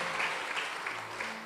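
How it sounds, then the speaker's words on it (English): A church congregation applauds itself at a live third service, a soft, even wash of clapping at a distance, steady throughout with no voices on top. "And even as a church, let us clap for ourselves."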